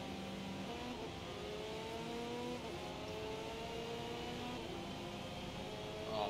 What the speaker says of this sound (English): I just slammed the brakes